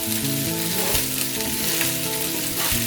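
Rice frying for Nigerian fried rice with vegetables, a steady loud sizzle filling the pan throughout, with stirring and some low background hum.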